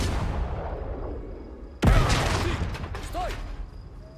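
Artillery bombardment in the game Last Train Home, a deep heavy boom that breaks over a low rumble and then rolls away, followed by fainter mechanical clatter, with some voices in the background.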